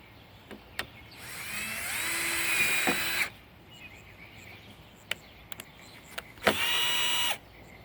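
A power drill drives drywall screws while building a well for a community garden, two loud whirring bursts of a few seconds each separated by quiet, with scattered clicks and knocks between them.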